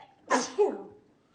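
A single sharp sneeze rings out nearby in a quiet meeting room, a quick two-part burst that fades into near silence.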